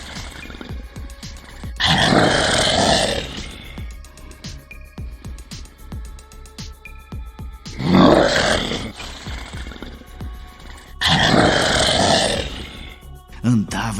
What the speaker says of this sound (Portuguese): O grande lobo rosnava ferozmente.